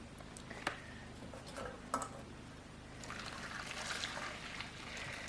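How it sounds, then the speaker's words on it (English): Water trickling and pouring onto raw wool fiber for wet felting a hat, a soft continuous dribble with a few sharper splashes, growing denser and more steady in the second half, fairly close and quiet with no talk. "I like to give the water to the fiber in a circular fashion so it actually continues to hold that circular shape really well."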